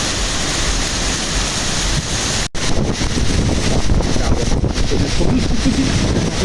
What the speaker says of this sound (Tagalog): Ang lakas ng hangin, baka matangay ng hangin ng cellphone ko guys.